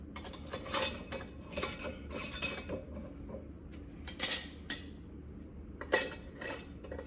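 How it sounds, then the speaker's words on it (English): Metal rings screwed by fingertip onto canning jar lids of chicken bone broth, making a series of light metallic clinks and scrapes in short bursts, close and fairly quiet, with no talking. "We're going to screw our rings on fingertip tight."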